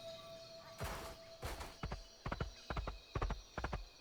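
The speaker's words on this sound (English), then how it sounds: "Did you forget about your horse again?" A horse in the video game Towers of Aghasba clops along in quick, crisp hoofbeats and lets out a clear whinny near the start, the steps continuing in an even rhythm afterward.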